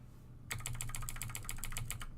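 Rapid keystrokes on a computer keyboard as a Linux terminal command is entered, a steady run of crisp, close clicks starting after a brief quiet pause and continuing to the end.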